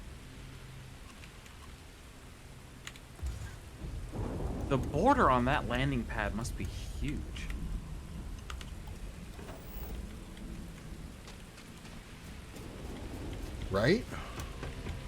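Rain falling on a bleak planet in the Starfield video game, a faint, steady hiss with a low rumble of thunder, partly under a person talking.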